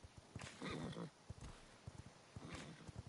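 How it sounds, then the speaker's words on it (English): Horse hooves clop in irregular beats as a horse is ridden in the video game V Rising, soft and fairly quiet with a faint whinny-like tone at moments. "I'm riding a horse,"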